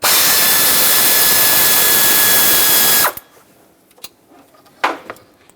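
A power tool with an 8mm socket on the intake manifold bolts of a 2008–2010 Ford F250 Super Duty 5.4L V8 whines loudly and steadily for about three seconds, then stops, followed by faint clicks and handling noises.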